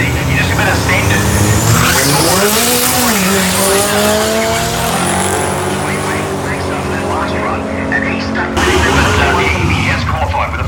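Turbocharged Proton drag car roaring loudly at a radial-tyre drag racing event, engine pitch rising and sweeping with tyre squeal, continuous and close, with an announcer talking over the noise.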